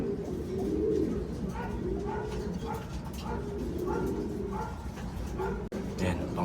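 Racing pigeons arriving at their loft during a derby race coo in soft repeated calls against a steady outdoor hum, while a person talks and a dog barks briefly in the background.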